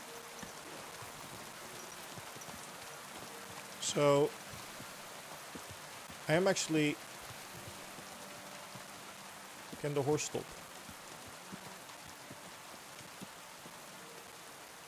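Steady rain pours in the video game Kingdom Come Deliverance 2, a constant hiss of falling water throughout, with someone talking briefly over it in three short bursts.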